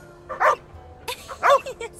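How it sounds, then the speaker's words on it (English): A dog in the video game The Inquisitor gives two close, sharp barks with small yips between them, heard without talk over about two seconds. "Gosh, what a lovely dog."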